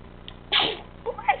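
A child gives a single short, sharp sneeze near the start of a quiet bedroom moment, followed by faint stirring sounds.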